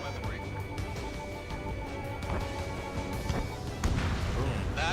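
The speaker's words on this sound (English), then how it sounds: "Just bomb it." A bomb strike destroying a radar vehicle in the Ace Combat 7 flight game, heard as a muffled crash and rumble under constant jet engine roar, with a sharper burst near the end.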